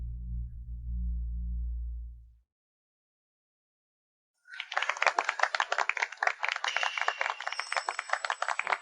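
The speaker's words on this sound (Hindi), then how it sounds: "आइए अब हम सब मिलकर जोरदार तालियों से सबसे सुंदर दुल्हन का स्वागत करें" Audience applause welcoming the bride at a wedding arrives after a low hum and a stretch of silence, then continues as a sustained crackle of many hands clapping.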